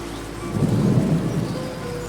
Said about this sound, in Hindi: बाहर बहुत आंधी चल रही है।